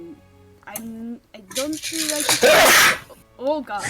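A sneeze bursts out amid a tabletop role-playing game session, loud and noisy in the middle of the clip, with people talking before and after it.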